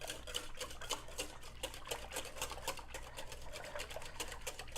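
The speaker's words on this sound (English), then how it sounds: "The more I whisk," Eclair cake filling is whisked briskly in a bowl, giving a steady stream of quick, close scraping clicks with no speech.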